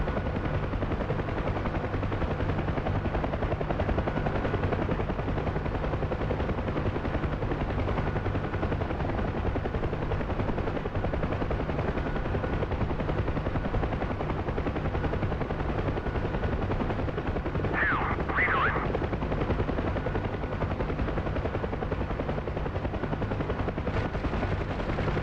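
A Huey helicopter in the video game DCS with its door gunners firing, the rotor and engine droning steadily throughout while gunfire rattles low beneath it.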